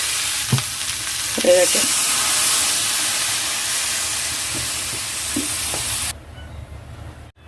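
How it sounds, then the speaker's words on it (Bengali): Chicken fries in a pan while being stirred, giving a loud, steady sizzle with scraping strokes. A voice speaks briefly, and the frying cuts off abruptly near the end. "ভালো করে নেড়ে চেড়ে জল ঢেলে দেবো।"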